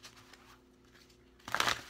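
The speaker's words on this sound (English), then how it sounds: "Okay, a couple more shuffles, guys." Tarot cards shuffled by hand during a June 2017 Libra reading, a quiet riffle near the start and then a louder, close burst of crisp crinkling card noise toward the end.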